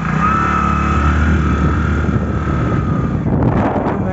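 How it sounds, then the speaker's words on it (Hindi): A vehicle's engine runs steadily while it is being driven, heard up close with a loud, constant roar and heavy wind rumble against the microphone. "तो ये मेरी गाड़ी का साउंड है"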